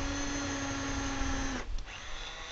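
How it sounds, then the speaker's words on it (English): A power drill runs with a steady high whine that cuts out partway through, leaving a low rumbling motor sound behind it. "I can drill"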